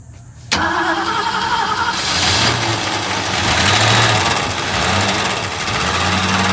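A 1965 Ford Mustang coupe with a freshly fixed carburetor fires up with a sharp start, then runs steadily at a rough, loud idle with slight swells in revs, recorded close by without talk.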